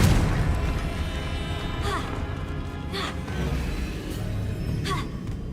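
Confringo fire spell explosions in Hogwarts Legacy, a few dull booming bursts at roughly one-second intervals over a constant rumbling game background.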